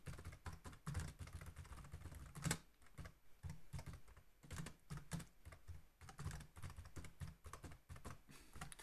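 Keys clatter on a computer keyboard as a program comment is typed, quiet close taps in quick uneven runs with brief pauses and a few harder keystrokes.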